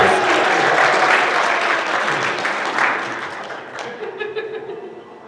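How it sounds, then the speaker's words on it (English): Sustained applause from a convention audience as a guest is introduced at an opening ceremony, loud and steady at first, then thinning out toward the end. "Everybody, give him a round of applause."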